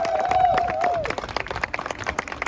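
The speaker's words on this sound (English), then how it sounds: "Everybody give a very loud round of applause to Adam Johannes." A crowd at a Cardiff protest breaks into applause, dense clapping that thins into scattered claps, with a brief whistle-like tone at the start and murmuring voices underneath.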